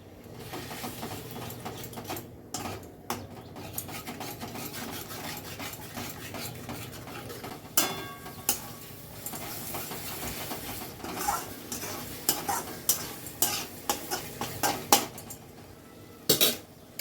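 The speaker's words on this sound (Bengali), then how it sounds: "সামান্য একটু জল দিয়ে মশলাটা কষিয়ে নেব" Cumin and chili spice paste loosened with a splash of water and stirred in a pan, with repeated scraping and clinks of a metal spoon against the pan over a low sizzle, getting busier toward the end.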